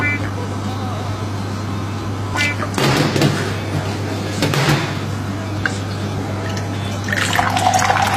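Water sloshing and splashing as tea leaves are rinsed for Moroccan-style mint tea, with a steady low hum throughout and louder bursts of liquid around the middle and near the end; a voice talks over it.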